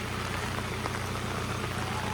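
Heavy rain, a dense continuous roar of droplets hammering down on a steep, slippery road where a Mitsubishi Triton pickup struggles to climb, steady and loud throughout.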